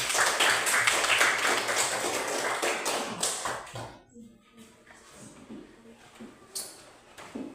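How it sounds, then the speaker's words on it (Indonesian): A class of students claps together after a group presents its discussion, a busy burst of hand claps for about four seconds before it fades into quieter room sounds and faint voices. "Kita tepuk tangan"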